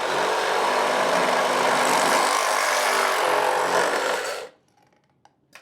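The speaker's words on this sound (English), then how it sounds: "now we can go ahead and cut our pipe to the correct length" A Sawzall reciprocating saw cutting through sump pump discharge pipe, a loud close buzzing rasp running steadily for about four seconds before stopping abruptly, followed by near silence and a faint clink.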